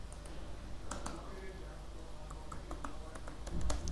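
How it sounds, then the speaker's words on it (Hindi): Computer keyboard keys tapped in a few scattered clicks, including Enter presses, close and light over a low background hum. "एंटर प्रेस किया और एंटर प्रेस कर दिया"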